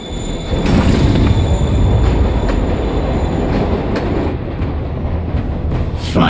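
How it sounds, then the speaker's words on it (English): A moving train in the Spider-Man Remastered video game rumbles steadily and loudly throughout, with rail clatter and faint wheel squeal over a constant low roar, no voices. "Train's moving."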